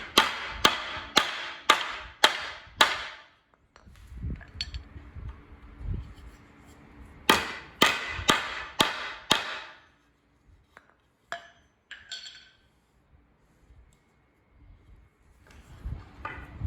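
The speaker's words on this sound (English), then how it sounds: "we just hammer in the T-nuts" T-nuts being hammered into a wooden workbench: two quick runs of about six sharp, ringing hammer blows each, separated by quieter shuffling and clatter, with a few scattered taps toward the end.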